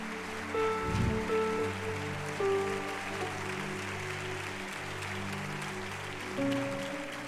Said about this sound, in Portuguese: Aplauda ao Senhor, igreja.